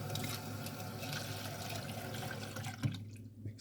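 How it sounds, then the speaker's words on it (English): Water runs into a shaker cup in a continuous soft trickle with a few light drips and knocks near the end. The sound is faint and close, and no one speaks. "I just put some more water."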